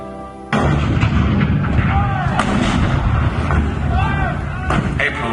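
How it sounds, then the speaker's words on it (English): Cannon fire at Fort Sumter in April 1861, heavy booming artillery blasts rolling one after another over a dense, loud rumble, with faint voices mixed in. "The cannon spoke for war, bitter, violent, and devastating."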